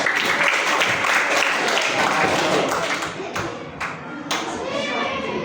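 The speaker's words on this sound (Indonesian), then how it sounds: "Oke, tepuk tangan." A roomful of schoolchildren clapping together in a classroom, loud and dense, with young voices mixed into the noise.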